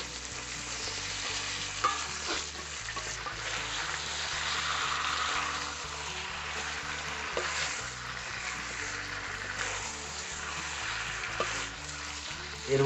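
Chicken frying with ground spice paste for a bata masala chicken curry, a strong close sizzle with repeated stirring scrapes through the whole stretch, steady and loud without talk.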